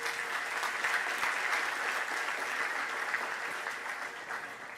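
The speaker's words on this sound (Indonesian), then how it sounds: "Beri tepuk tangan yang meriah." Sustained applause from a lecture audience at an Indonesian public lecture on amnesty and abolition, steady and dense throughout, fading only slightly near the end with no talk over it.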